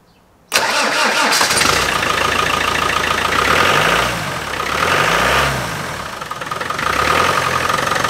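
A Land Rover Defender 300 Tdi diesel engine cranks and catches abruptly, then settles into a close, steady idle, with a couple of brief revs partway through.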